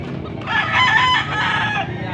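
At a poultry market in Pampanga, a rooster lets out one loud, close crow lasting nearly two seconds. Clucking from other fowl sits around the crow.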